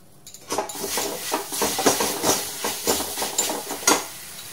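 Crushed ginger sizzles in melted, reddish caramelized sugar for fried tea while a spoon scrapes the pan in quick, regular strokes, a rhythmic series of close scraping stirs over a soft hiss.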